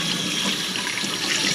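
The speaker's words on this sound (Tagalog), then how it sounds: "Ito tubig na malamig." Cold water pours steadily from a tap in a continuous, close hiss and splash, with no voices and no break in the flow.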